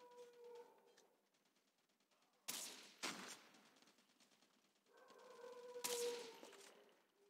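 Gunfire in the mobile shooter COD Mobile during a ranked match, two sharp loud bursts of shots separated by quieter stretches of game ambience, with a steady hum and tonal background sounds in between.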